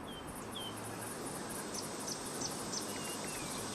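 A steady, dense buzzing drone of cicadas fills the air without pause, with faint chirps and bird calls above it.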